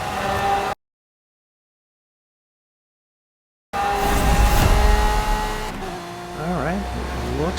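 A Lamborghini Centenario races in a video game. Its engine roars loudly with tire squeal, cutting out abruptly into a few seconds of silence, then returning with rising and falling engine revs. A voice talks over it.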